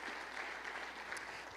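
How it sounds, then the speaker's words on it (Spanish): A church congregation applauds during a worship service. The clapping is dense and steady but fairly faint and distant, with no clear speech. "Dele un aplauso al Señor si usted lo cree."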